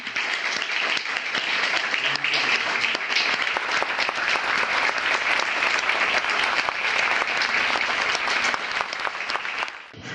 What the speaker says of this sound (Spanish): Así que un aplauso y enhorabuena